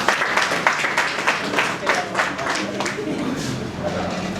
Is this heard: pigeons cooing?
no